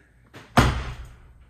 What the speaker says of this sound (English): when you shut it, it's a nice thud